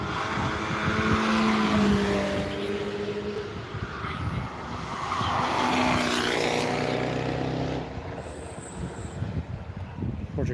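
A Project 8 race car roars past on the Nürburgring circuit under cloudy skies, its engine note swelling loud and close, fading, then a second surge of passing engine noise over steady trackside rumble.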